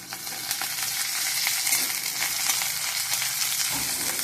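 Onion sizzles steadily in very hot oil, a dense close crackle with light stirring running through it.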